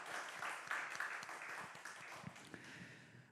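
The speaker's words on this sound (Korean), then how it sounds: "우리 하나님 앞에 감사의 영광의 박수 올려드립시다." A church congregation applauds during a Sunday worship service, with steady massed clapping from many hands that fades slightly toward the end.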